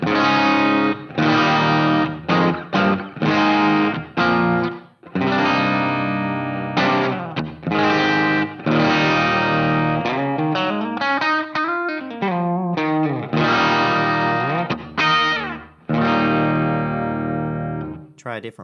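Distorted electric guitar plays through an HX Stomp using a Selah Sounds impulse response, with a gold speaker and 57 mic, in loud sustained chords and riffs with short pauses and a bending lead passage, no talking.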